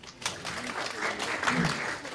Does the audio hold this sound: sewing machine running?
no